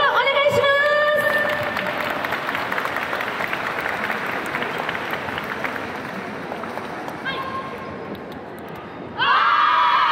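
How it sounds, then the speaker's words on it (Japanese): Large audience at an outdoor festival stage applauds and cheers for Imamiya High School's dance club, a broad steady wash of clapping that tapers off before louder music-like sound cuts in near the end; an announcer's voice is heard at the start. "今宮高校ダンス部、大きな拍手をお願いします。"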